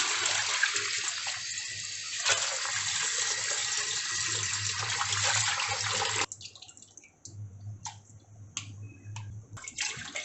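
Raw chicken pieces are washed in a kitchen for a spicy Andhra chicken dish: steady, loud running water rushes for about six seconds, then gives way to quieter splashes, drips and handling of wet meat.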